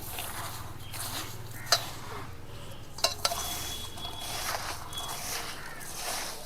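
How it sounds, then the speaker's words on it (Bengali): Green olives are mixed with vinegar and sugar for a pickle, giving soft scraping and stirring with a few sharp clinks of a utensil against a dish, fairly quiet and intermittent. "চিনি, ভিনিগার আর জলপাই দিয়ে ভালোভাবে মেখে নেব।"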